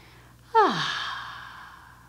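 A single deep, audible breath out, voiced almost like a sigh, comes during a floor stretch for golfers. It is close and clear against a quiet room.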